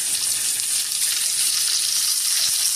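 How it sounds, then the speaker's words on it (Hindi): Ingredients for spicy chili chicken wings fry over a medium flame, giving a steady, loud, bright sizzle that runs unbroken from start to finish with no talking. "ये सारी चीज़ों को आप अच्छी तरह फ्राई करें, और जो स्टोव है इसको आपने मीडियम रखना है।"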